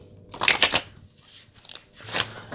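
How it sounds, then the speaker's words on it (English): A deck of fortune telling cards is shuffled by hand, with two quick riffling bursts of papery flutter separated by a short pause, close and crisp. "let me just give it a quick shuffle"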